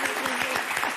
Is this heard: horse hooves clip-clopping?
no